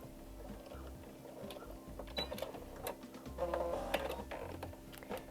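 Home sewing machine back stitching fabric, a quiet rapid mechanical whirring and clatter in short bursts with brief pauses, close by.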